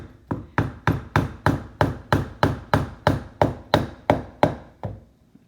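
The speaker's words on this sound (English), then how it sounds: "just take a hammer" Hammer blows knocking a pumpkin piece loose, about thirteen sharp, evenly spaced thuds in a steady rhythm, close and fairly loud with no talking.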